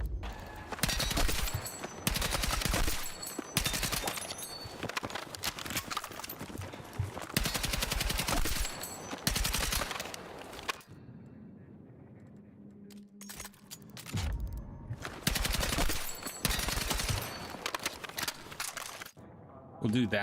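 M417 rifle gunfire with hollow point rounds in Battlefield 6, several loud close bursts of rapid shots separated by brief quieter gaps, with occasional talking between bursts.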